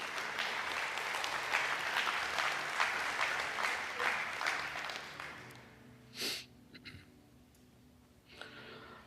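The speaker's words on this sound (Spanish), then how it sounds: "Si va a darle un aplauso a él, déselo con ganas." A church congregation applauds for about five seconds, a dense patter that fades out and gives way to a few isolated sniffs and breaths close to the microphone.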